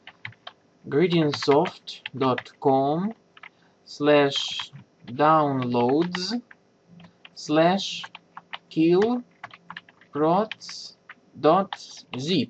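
A computer keyboard clicks in quick bursts as a web address is typed, heard under someone speaking clearly throughout.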